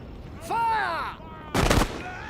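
A musket volley from line infantry in the Empire: Total War game, heard as a loud crackling burst of massed gunfire about midway, preceded by a shouted voice giving orders.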